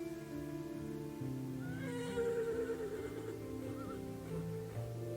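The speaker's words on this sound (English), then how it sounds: "Horses? I hear horses. They don't sound far off." Horses neighing and whinnying in the video game Mad Father over a steady droning background, the calls rising and falling at moderate distance.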